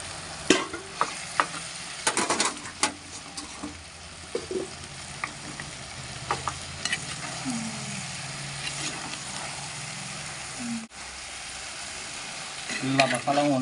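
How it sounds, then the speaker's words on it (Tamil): Chicken curry with onion, tomato and spices fries in a pan while being stirred, producing sizzling under repeated loud scraping and clanking spoon strokes, with faint voices in the background. "எல்லா மசாலாவும் ஒன்றா சேர்கிற அளவுக்கு நல்லா கிண்டுவோம்"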